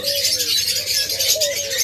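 Diamond doves and lovebirds in a breeding setup, a soft cooing call over dense, bright chirping and twittering from many birds at close range.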